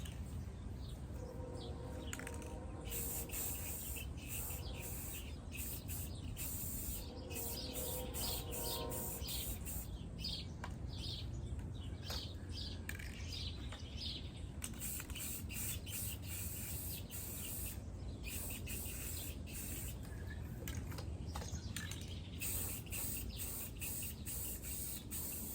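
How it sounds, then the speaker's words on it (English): An aerosol can of fluorescent spray paint hisses steadily and continuously onto a fishing rod while the rod is turned, with outdoor birds chirping faintly in the background. "Like, you can see me turning the rod as I'm spraying."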